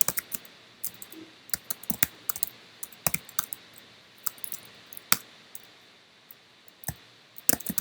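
Computer keyboard typing in irregular bursts of crisp, close keystroke clicks with short pauses between, no talking.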